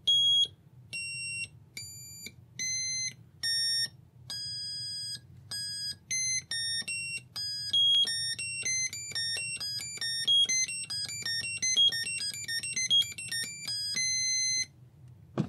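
A simple 555 timer IC piano circuit running at 5 volts emits shrill electronic beeping tones, single pitched notes stepping up and down, sparse at first then faster runs, fairly loud over a low hum with no talking.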